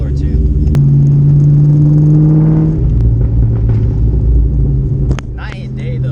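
Cobra car engine while driving after a clutch replacement, a loud, steady rumbling hum with a sustained tone that shifts pitch partway through, heard from inside the car.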